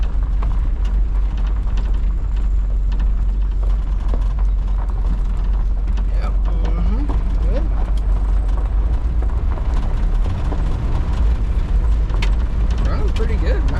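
A 1962 Ford Galaxie engine runs with a steady, loud low rumble throughout, with people talking over it.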